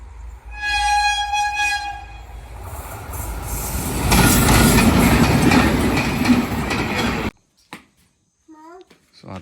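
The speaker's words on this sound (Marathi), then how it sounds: "आता फाटक पडले कारण रेल्वे येते. आता जस्ट विचारलं तर तेजस आवाज आला असेल तुम्हाला. तेजस ट्रेन येते." A Tejas Express train passes a level crossing with a long horn blast, then a loud, near rumble of wheels and carriages that cuts off sharply. Afterwards a voice and other speech are heard in a quieter background.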